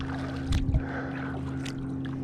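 Kayak paddling on open water near Musgrave Point, with two close, soft splashing strokes over a steady background of wind and a low boat-engine hum.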